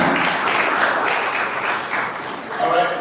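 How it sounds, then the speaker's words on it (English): Audience applause at a school outreach session at Wisdom House College in Lagos, a dense wash of clapping held steadily for about three seconds, with students' voices mixed in. "Clap it up for that"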